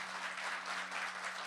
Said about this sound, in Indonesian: Tepuk tangan nanggung amat sih